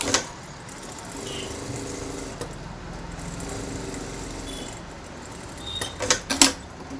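A sewing machine stitches the neckline of a readymade blouse, its motor whirring steadily at moderate volume, with a few sharper mechanical clicks and clatters near the end.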